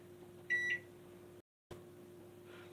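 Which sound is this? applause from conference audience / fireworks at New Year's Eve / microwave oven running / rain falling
microwave oven running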